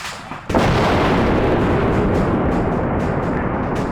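Airstrike in a large-scale PvP video game battle: a sudden heavy blast bursts in after a quiet moment, then a loud, sustained rumbling roar carries on to the end.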